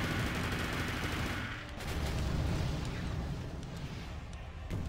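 Machine gun fire raking buildings in Armored Core 4, a continuous rattling barrage with rumbling impacts and debris, steady and fairly loud, easing briefly midway before picking up again.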